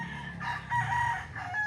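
Chickens and a rooster on a farm with overgrown grass give short, faint clucks and crowing notes in quick succession, heard alone at low volume.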